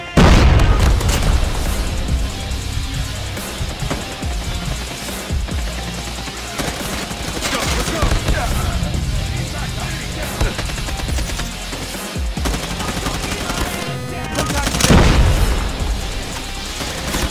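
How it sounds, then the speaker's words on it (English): Predator missile strikes in a Call of Duty multiplayer match, loud booming explosions mixed with bursts of rapid gunfire through a dense, continuous battle din, with a heavy blast near the end. "Predator missile inbound."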